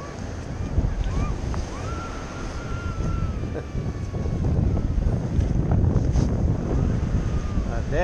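Ocean waves breaking and washing on the shore, a steady loud surf rumble and hiss with wind buffeting the microphone, swelling in the second half, with a faint high tone drifting through.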